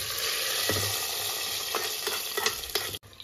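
Tempering poured into pundi palya sizzles and crackles loudly in hot oil, a continuous frying hiss with a few sharp spits and stirring clatter, then a brief cut near the end.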